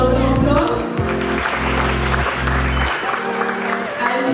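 An audience claps at a kindergarten fancy dress competition at Pallotti School, steady applause running throughout while a loud musical tone with shifting low notes plays over it.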